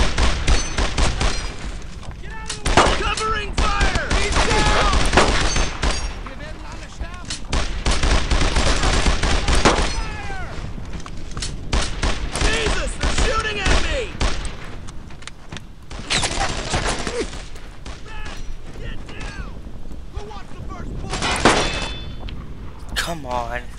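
Dense, sustained gunfire from a WWII squad battle in a Brothers in Arms: Earned in Blood mission, rapid machine-gun bursts and rifle shots overlapping with booms, loud and near, with shouted soldier voices mixed throughout.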